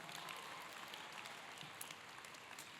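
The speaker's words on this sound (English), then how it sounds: "Round of applause for him." Faint, distant audience applause at a large Catholic conference, a continuous soft hiss of many hands clapping at a steady level with a few slightly brighter claps near the end.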